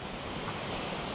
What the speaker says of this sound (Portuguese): Agora a gente está na cachoeira do Bianchini.